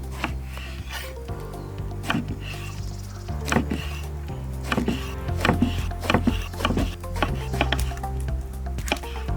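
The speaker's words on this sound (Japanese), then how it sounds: "とナスビ、はい、切っていきます。" A knife chops eggplant on a wooden cutting board in a home kitchen, a steady run of crisp, close thuds and squishy cuts over a constant low background hum.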